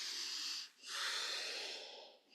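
Deep, airy breaths are drawn and released during a yoga bow pose, two long close-up inhale-exhale cycles with a brief pause between, soft and breathy with no speech.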